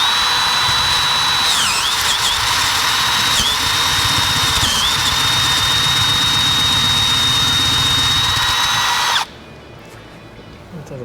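A power tool whines at a steady high pitch while retapping a thread on a Chevy K30 square body truck during an intercooler install. It dips briefly under load several times, then cuts off abruptly near the end.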